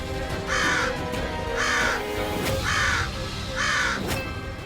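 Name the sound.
crows cawing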